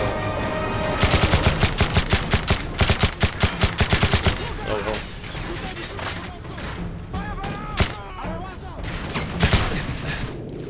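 Rapid automatic gunfire in Call of Duty Modern Warfare 3 rattles in a fast, loud burst of evenly spaced shots, then gives way to scattered single shots and combat noise with someone talking over it.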